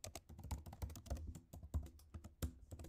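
Computer keyboard keys typed in a quick, uneven run of clicks and taps while a password is entered for an account setup, close and fairly loud, with no voices.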